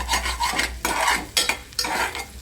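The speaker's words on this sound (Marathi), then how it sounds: "आता आपण कांदा भाजून घेऊया" Onion frying in oil in a pan while being stirred, giving repeated scraping, rasping bursts over a steady sizzle, close and fairly loud throughout.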